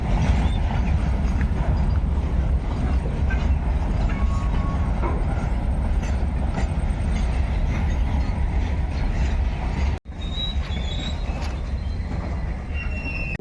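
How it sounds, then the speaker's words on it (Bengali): A train entering Azimganj Junction railway station rumbles and rattles steadily close by, wheels clattering with faint squeals, continuous and loud, with a brief dropout near the end. "গাড়ি ঢুকছে এখন এই মুহূর্তে আজিমগঞ্জ জংশন রেল স্টেশনে"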